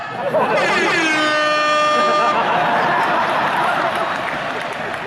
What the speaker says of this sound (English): That air horn pushed me over the top.